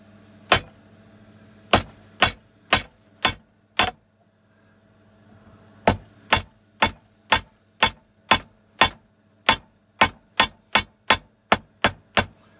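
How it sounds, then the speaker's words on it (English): Sharp metallic hammer strikes ring out one by one, a quick burst of five, a pause, then a long steady run of blows, close and loud. "So I tend to just get an hammer and try and do this one hand."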